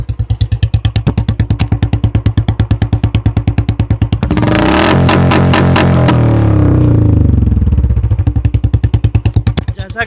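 Royal Enfield Classic 350 twin-spark BS3 exhaust, loud and close: a thumping idle pulse rises into a roaring full-throttle rev that holds for several seconds, then falls back to the steady thump.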